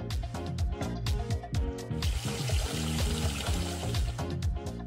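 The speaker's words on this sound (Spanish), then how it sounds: "Y ahora ponemos un poco de agua." Water poured into a toy saucepan during play cooking with a baby doll, a bubbling, gurgling trickle with repeated glugging pulses, close and continuous.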